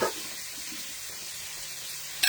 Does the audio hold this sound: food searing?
yes